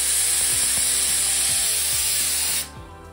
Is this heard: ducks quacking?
no